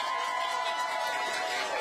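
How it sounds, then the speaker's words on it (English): Steady, dense applause with cheering from a studio audience honoring a teacher on a live local TV segment, filling the whole moment at an even, fairly close level. "Can we have one more round of applause?"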